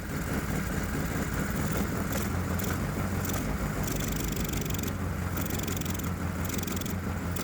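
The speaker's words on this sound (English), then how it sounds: "watch what happens when I goose the throttle without manually adjusting the air-fuel ratio" A Predator 212 small engine fitted with electronic fuel injection runs steadily, its throttle goosed without air-fuel adjustment, producing a loud, continuous rough mechanical drone that shows no clear rev rise and seems to stay at idle.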